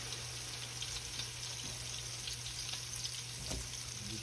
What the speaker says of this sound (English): And just put it right in the skillet.